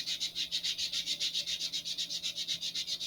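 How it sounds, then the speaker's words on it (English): A sanding block rubs back and forth on an Estes DARC 1 model rocket fin in fast, even, rhythmic strokes, a close and steady scratchy hiss with no talking. "remaining ones, you can do with the sanding block"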